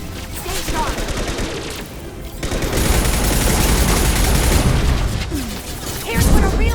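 Dense gunfire and blasts in a Mass Effect 2 firefight, rapid overlapping shots and booms filling the scene almost without pause, with game voices breaking through now and then.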